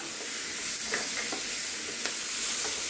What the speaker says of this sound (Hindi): अभी मैं इसमें डाल रही हूँ कटे हुए टमाटर